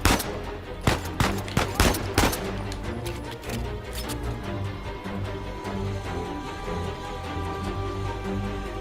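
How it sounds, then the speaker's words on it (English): Uncharted 4 gunfire: a handful of sharp, loud shots in quick succession in the first few seconds, followed by a sustained rumbling, music-like background bed. "there will be some more shooting going on"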